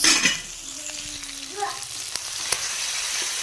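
Chicken tikka frying in a spoonful of oil, a close, continuous sizzle with scraping stir strokes and a few sharp clicks, alone without voices.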